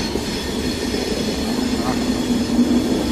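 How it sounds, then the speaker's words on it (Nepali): A long electric passenger train rolls past with a steady, close rail rumble and faint wheel hiss throughout. "यो पेसेन्जर ट्रेन, यो इलेक्ट्रिक ट्रेन हो।"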